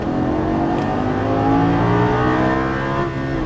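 A 2013 Lamborghini Gallardo accelerates hard on a race track, its engine roaring loudly and steadily with rising harmonic tones throughout, close and continuous.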